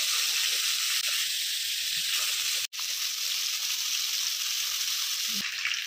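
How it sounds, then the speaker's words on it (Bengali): Fish frying in hot oil in a home kitchen, a steady loud sizzle and hiss that runs throughout, broken by one brief dropout near the middle and a small clatter near the end. "এবার মাছটা তেলের মধ্যে দিয়ে দিচ্ছি।"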